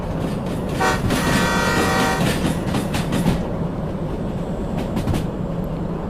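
A steam locomotive train near an iron mine in a video game sounds a tooting whistle over continuous rail clatter and rumble, fairly loud and with no talk.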